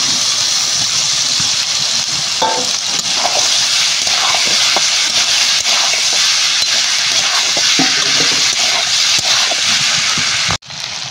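Pasta frying in a pan for a homemade breakfast snack gives a loud, continuous hiss with a few light scrapes and knocks of stirring, then cuts off sharply near the end.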